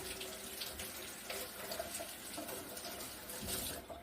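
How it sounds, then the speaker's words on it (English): Tap water runs steadily into a sink while tomatoes are washed for homemade spaghetti sauce, a continuous close splashing stream that holds for the whole stretch with no talk. "The first thing you've got to do is wash your tomatoes."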